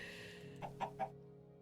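Three short chicken clucks from Minecraft, evenly spaced and moderately close, over a steady low game background hum.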